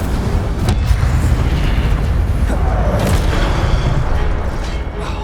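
Fiery spell cast in a fantasy action video game, a dense rumbling whoosh with booming bursts that fills the whole stretch at steady loud level.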